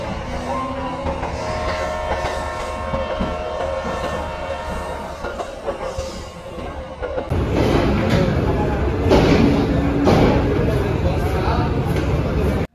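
A passenger train runs at night on the way to Guwahati, its rumbling carriage noise steady under a voice at first, then louder with rhythmic clatter in the second half.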